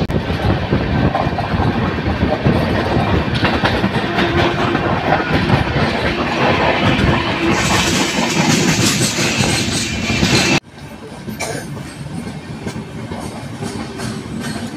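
The Charminar Express running on rails, a loud steady rumble and clatter of wheels recorded close from on board, with a sudden drop in level near the end as the surroundings change.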